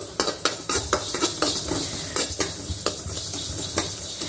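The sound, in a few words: sesame seeds popping while roasting in a pan on medium flame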